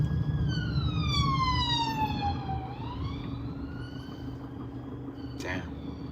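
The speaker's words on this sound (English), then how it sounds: "I think there's a police car behind me." Police car siren wailing in London traffic, starting close and loud with a rising-falling sweep, then easing into a steadier lower wail over the rumble of the car's engine and road noise, ending with a sharp brief clatter.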